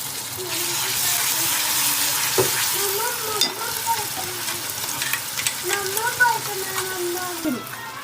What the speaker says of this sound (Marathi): आपण वाटण टाकून फ्राय करून घेतलंय